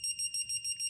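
Torque angle tool used during Porsche 911 997 engine crankcase assembly gives out rapid, evenly spaced high electronic beeps, about six in under a second, loud and close with no talk.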